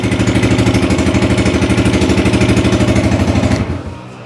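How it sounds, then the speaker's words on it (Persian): A motorcycle engine idles loudly and steadily right after a cold start, its rapid even pulsing filling the clip until it dies away near the end. "موتور راحت روشن میشه."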